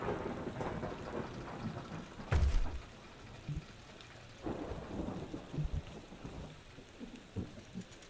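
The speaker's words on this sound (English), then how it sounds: "Comes the rain" Rain and thunder in the park-building video game Parkitect: a steady patter of rainfall with a sharp, loud thunder crack partway through and softer rumbles rolling in after, close and without voices.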